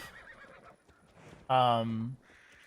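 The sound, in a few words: horse neighing in video game Assassin's Creed Valhalla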